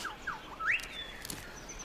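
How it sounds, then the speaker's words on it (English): Thin high-pitched calls of a white-throated treecreeper, a few short rising notes fairly close, with a quiet outdoor background and other faint birds. "White-throated tree creeper quite close."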